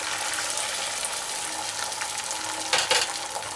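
An egg omelette fries in a thin layer of oil in a pan, a steady close hiss and sizzle with a brief louder crackle near the end, no voices.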